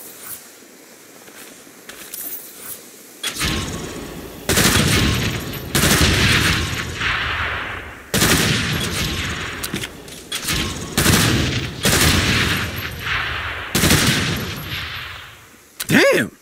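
Gunfire in the video game Saints Row (2022): after a quiet opening, loud sustained bursts of automatic fire come in repeated volleys separated by brief pauses, ending with a sharp final shot.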